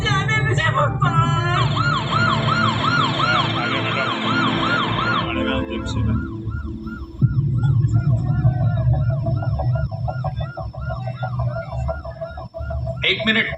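An ambulance stuck in traffic wails its siren, first a fast rising-falling yelp then a slower warbling tone, loud and continuous over street noise with some raised voices around it.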